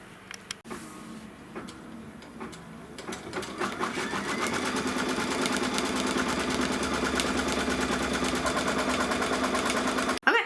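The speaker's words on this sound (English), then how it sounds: "what's going to stitch next is the fabric tack down" Embroidery machine stitching a fabric tack down, a rapid mechanical chatter that starts quietly after a brief pause and builds to a steady, loud run of needle strokes.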